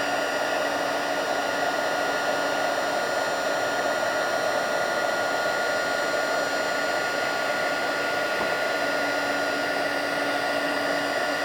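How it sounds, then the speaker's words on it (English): A heat embossing tool blows hot air steadily over a stamped craft gift bag, a loud, constant whooshing hum with a faint whine that holds unbroken throughout with no talking. "Until all of that is heat embossed."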